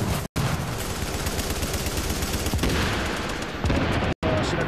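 Rapid gunfire with explosive rounds in The Division's Dark Zone: dense, loud automatic bursts with booming impacts, sustained almost without pause, broken by two brief gaps.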